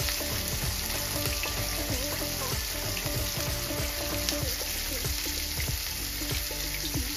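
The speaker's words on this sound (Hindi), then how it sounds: "इसको हम मीडियम लो में ही फ्राई करेंगे।" Pomfret fish shallow-frying on a tawa over medium-low heat, a steady, dense sizzle with faint crackles running unbroken at close range, with no talking.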